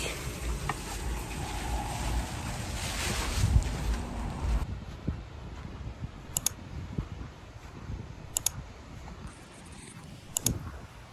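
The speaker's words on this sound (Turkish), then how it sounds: "Çok rüzgar var." Strong seaside wind by the ocean buffets the microphone with a heavy, roaring rush, easing into a steadier blustery hiss broken by a few sharp clicks.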